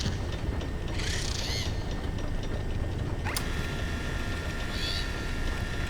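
An animatronic in the horror video game FNAF Secret of the Mimic whirs like a shop vacuum, with mechanical ratcheting and gear-like sweeps rising and falling over a constant low rumble and hiss.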